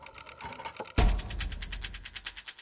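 A sewing machine runs with a rapid, steady mechanical chatter, starting abruptly after a brief quieter stretch, close and fairly loud.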